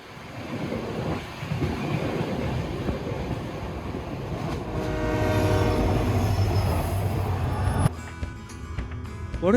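Passenger train moving through northern Bengal: a loud, continuous rumble of wheels and carriages with a horn sounding partway through, then an abrupt shift in the noise near the end.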